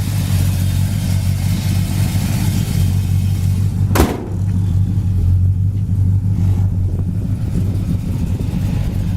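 A 1964 Pontiac GTO, fitted with a replaced plastic timing gear, idles steadily with a low even rumble that carries through the whole stretch, broken once by a brief sharp click near the middle.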